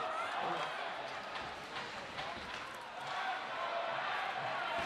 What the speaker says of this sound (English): A let's go Hat-tricks chant from the crowd.